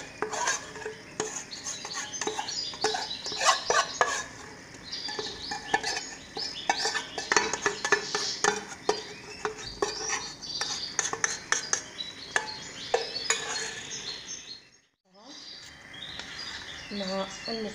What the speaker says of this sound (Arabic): ونتقلاو مليح